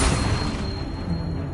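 Incendio fire spell cast in a PS5 video game, heard as a single loud, bassy whooshing boom that starts with a burst and then decays into a roaring rumble.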